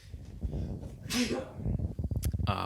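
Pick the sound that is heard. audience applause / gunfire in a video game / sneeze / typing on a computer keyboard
sneeze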